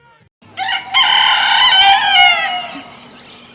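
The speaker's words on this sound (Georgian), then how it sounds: "მამალი ხელზე ახტა და ყივილი დაიწყო" A rooster crows once, loud and close, with a long ringing cock-a-doodle-doo that rises sharply and then fades over about two seconds against a faint background hum.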